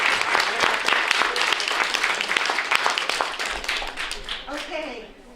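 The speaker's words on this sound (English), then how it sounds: "can we please give a big hand of applause to all of our panelists?" A room of people applauding panelists at a talk, dense close clapping that holds steady and then tapers off at the end, with some voices mixed in.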